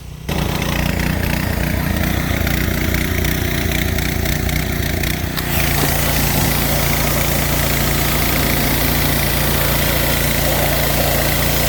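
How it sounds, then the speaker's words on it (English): A loud engine drones steadily, joined partway through by the hard hiss of a pressure washer spraying mold off a 1993 Mustang coupe, continuous and close. "I'm gonna hit it with some pressure wash now and see what it does."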